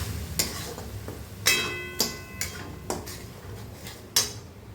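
Metal spoon scraping and clinking against a frying pan as tomato is stirred into a curd pointed gourd curry, several sharp separate knocks spaced irregularly over a soft background.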